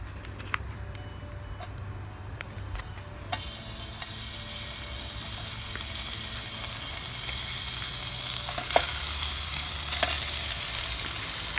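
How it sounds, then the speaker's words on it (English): Bacon sizzles in a pan over a small firebox stove outdoors in the woods, a steady close crackling hiss that grows brighter and louder partway through, with occasional light clinks of the pan. "Right, so that's the bacon going."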